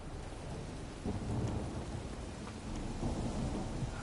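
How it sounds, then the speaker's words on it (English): Thunderstorm with steady rain in the Witcher 3 game, a low rolling rumble of thunder beneath continuous rain hiss, fairly quiet and without voices. "A storm, damn it."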